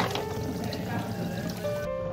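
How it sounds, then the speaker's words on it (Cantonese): Herbal soup water poured steadily over the head during a head spa wash, a continuous close splashing wash of liquid with a faint hum behind it. "見到佢洗嘅水呢，係真係湯藥嚟嘅"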